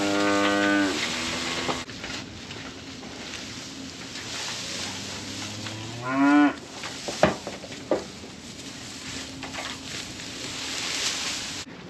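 Cattle calves on a farm let out several drawn-out moos, one loud near call at the start and others further off, with a steady background hiss and a few soft clunks in between.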